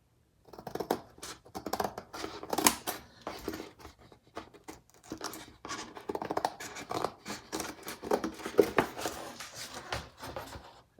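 Scissors snipping through paper while a checkbook is made, with a series of close, irregular crisp cuts and rustling, separated by short pauses.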